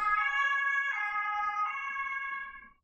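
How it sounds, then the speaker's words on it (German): An ambulance siren wailing outside, a loud two-tone electronic wail cycling through a few slow pitch changes before fading away at the end, with no voices over it. "kommt sofort ein Rettungswagen"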